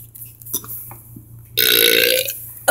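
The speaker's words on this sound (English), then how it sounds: "I'm gonna pause my video until I have a burp." Loud, rough burp after a swig of Dr. Thunder soda, bursting out abruptly after a stretch of quiet breathing and faint rustling, lasting about a second before tapering off.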